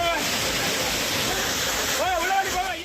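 Courtallam main waterfall pouring water in a steady, dense roar, close and loud throughout, with a voice briefly rising over it near the end.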